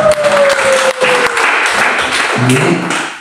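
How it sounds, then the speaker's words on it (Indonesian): A congregation at an apartment worship service claps in sustained applause, loud and close, with voices speaking and calling out over the clapping. "Wah, tepuk tangan"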